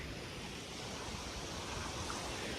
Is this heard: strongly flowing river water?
yes